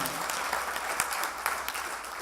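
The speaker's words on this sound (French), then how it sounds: "Est-ce qu'on peut applaudir cette dame, ta Eva?" Audience applause for a woman at a comedy club show, a steady dense clapping wash from a crowd with a few sharper claps standing out.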